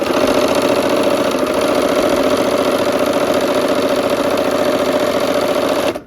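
A sewing machine runs steadily while stitching a quilt block, a loud, even mechanical whir with a rapid needle rhythm that holds for several seconds and then stops abruptly.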